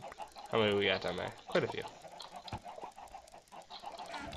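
Chickens cluck and squawk on a video game farm, a loud burst of calls near the start and another shortly after, with people talking over and between them.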